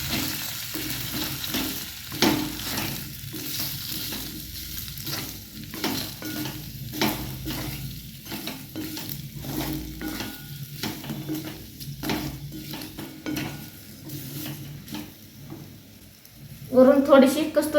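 Batter for a panji breakfast snack is stirred and fried in a pan, giving a close, steady sizzle broken by repeated scraping strokes of the spoon, with a louder clatter near the end.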